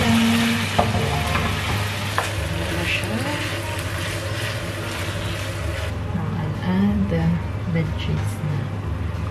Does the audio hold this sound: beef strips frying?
yes